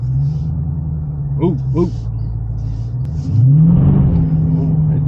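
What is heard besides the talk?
2023 Dodge Challenger SRT 392 Scatpack accelerating in sport mode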